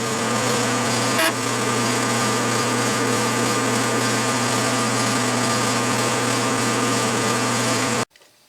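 A counterbore held in the tailstock chuck of a small Unimat lathe cuts into a die holder, giving a steady, loud machining whir that runs unbroken for about eight seconds and then stops abruptly.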